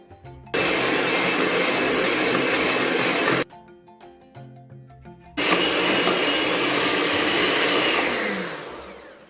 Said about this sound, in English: we are going to whip it for roughly 5 minutes on high speed, and I am using my handheld mixer today